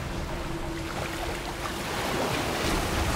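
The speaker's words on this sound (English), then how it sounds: "Okay, we're doing the water slide." Rushing water on a water slide in the sci-fi horror game The Callisto Protocol, a steady broadband wash that swells slightly louder toward the end, with no talking.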